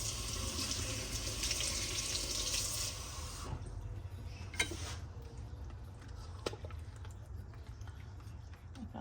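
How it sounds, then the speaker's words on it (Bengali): Cold water pouring from a tap into a kitchen sink, a steady rushing stream that cuts off after a few seconds, leaving faint clicks and small knocks. "এই যে দেখেন এটা একটু পানি দিলাম"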